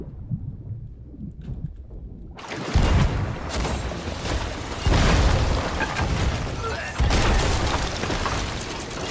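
Heavy cannon fire in Sea of Thieves during a ship battle: three loud booming blasts a couple of seconds apart, each trailing into a rumbling roar.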